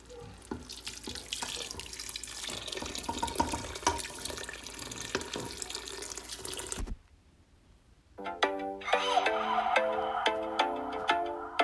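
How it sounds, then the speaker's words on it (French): Water poured from a tap into a cooking pot of meat with spices, tomato and onions, a continuous gushing rush that stops abruptly, then after a pause a brighter, ringing run of splashes and drips as filling resumes. "Et là, je vais rajouter de l'eau."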